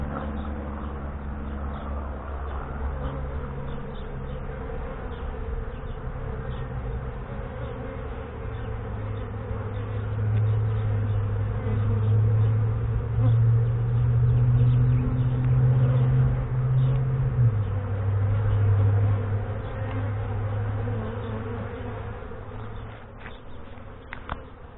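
A honeybee swarm buzzes steadily in the air during a swarm catch, a dense continuous hum that swells louder in the middle and then eases, with no talking.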